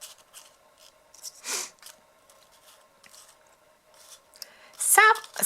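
Scissors snip through gift wrapping paper for card making, a few dry crisp cuts and rustles at close range, with a louder crinkling burst near the end.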